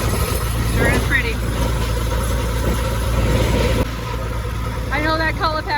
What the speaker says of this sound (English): I know that color packer is really loud on the road